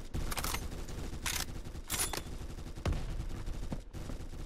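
Mosin Nagant rifle fired in the video game Phantom Forces: a few loud, sharp cracks spaced irregularly over several seconds, each with a short echoing tail, set against a steady bed of in-game background noise.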